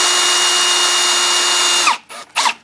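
Power drill running steadily for about two seconds while driving a screw into an electrical receptacle, then stopping, followed by two short bursts of the motor.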